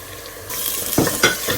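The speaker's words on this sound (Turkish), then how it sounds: "Kırmızı biberle kavurdum." Red pepper sautéing in a hot pan, with a soft steady sizzle broken by a couple of sharp scraping stirs near the end.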